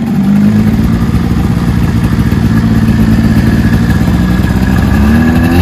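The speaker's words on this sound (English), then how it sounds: "You take your grandpa's snowmobile for a ride?" A 1979-1980 Yamaha SRX 440 snowmobile engine runs loud and close, a steady buzzing two-stroke drone that rises in pitch as it revs near the end, with clattering mechanical noise underneath.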